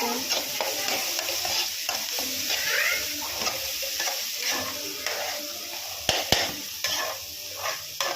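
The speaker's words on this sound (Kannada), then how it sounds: "ಚೆನ್ನಾಗಿ ಫ್ರೈ ಮಾಡ್ತೀವಿ." Tomato masala with salt fries in a pan for egg fry, a constant sizzle with regular scraping stirs of a spoon, close up, and a couple of sharp utensil knocks near the end.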